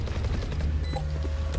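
Rapid video game gunfire in Valorant, a dense burst of shots with booming low end heard close and loud throughout, with no talk.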